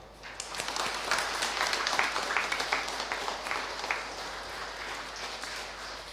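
A church congregation claps at a nun's silver jubilee Mass, the applause swelling in after a quiet start, holding as a moderate patter, then tapering off.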